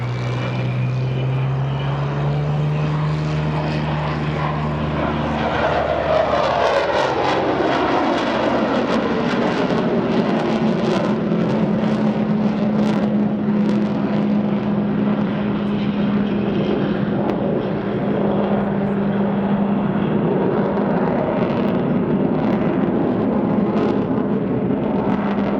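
Avro Vulcan bomber XH558 roaring past at an airshow display at Duxford, a loud sustained jet roar that swells and shifts pitch as the delta-wing aircraft passes, continuing as a broad rumble to the end with no talk.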